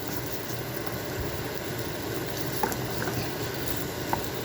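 Peppers and onions cooking in a pan for a quesadilla, a steady bubbling sizzle close up with a few faint clicks, continuous and even throughout.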